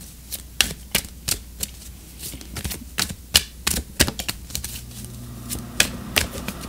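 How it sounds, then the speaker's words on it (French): Oracle cards shuffled by hand, a close run of crisp, irregular riffling snaps and slaps, loud and alone. "on va tirer une carte d'oracle"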